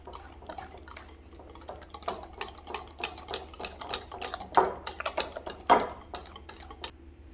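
A whisk clatters rapidly against a bowl while beating a dessert mixture smooth, producing a busy, uneven metallic ticking with a few sharper louder knocks.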